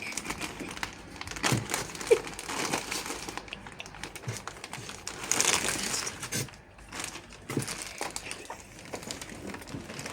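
A plastic bag opened and crinkled by hand at an aquarium livestock intake, with continuous close rustling and crumpling bursts that run on for around ten seconds.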